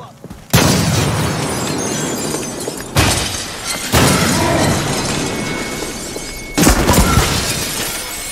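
Grenade blasts in the military shooter America's Army: a loud burst with a shattering crack, followed by two more heavy explosions and rolling rumble, close and forceful with no speech.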